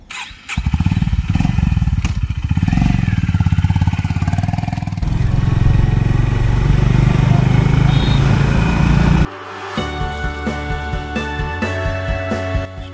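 A motorcycle ridden at speed, its engine droning loud and close, with the rider speaking briefly over it; the tone shifts midway, then a rougher pulsing engine note follows after a sudden break.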